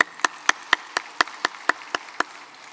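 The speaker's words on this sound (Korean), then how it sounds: "여러분 박수해 주실까요?" A congregation at a Korean church Sunday worship service claps in a steady, even rhythm, about four claps a second, crisp and fairly close, with no voices.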